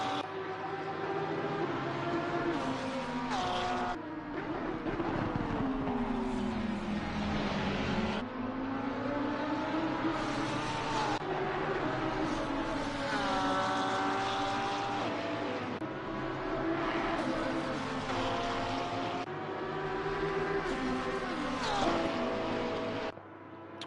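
Lamborghini GT3 race cars at Mount Panorama in the racing sim Assetto Corsa Competizione, engines droning loudly and continuously with rising and falling pitch through gear changes, close and sustained with no voices.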